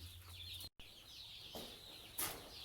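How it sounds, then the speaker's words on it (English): A laying hen clucks softly a few times, with faint rustling and a brief higher squawk near the end, no talking. "The laying hens need feed"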